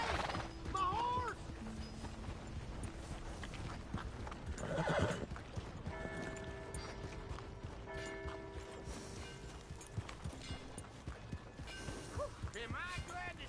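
A horse in a video game whinnies several times over clip-clopping hooves, with a voice talking over the sounds.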